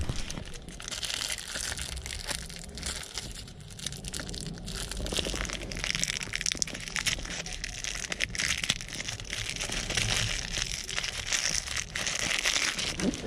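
Plastic packaging from a Toyota pickup shifter rebuild kit crinkles and tears as it is unwrapped up close, in irregular bursts of crackling that grow busier toward the end, with no talking.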